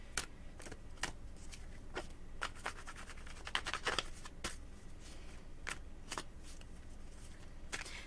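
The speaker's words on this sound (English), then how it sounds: "let me just shuffle that for you, Jada." Cards are shuffled by hand for a psychic reading, a quiet close run of riffles, taps and soft snaps that repeats steadily with no talk.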